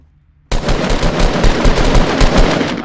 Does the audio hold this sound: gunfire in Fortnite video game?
yes